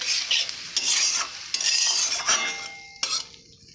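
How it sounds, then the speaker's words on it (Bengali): Food is stirred in a cooking pan with a small splash of water: a close, scraping swish of a spatula in several uneven strokes over a light sizzle that fades toward the end. "এইভাবে নেড়ে চেড়ে নেব।"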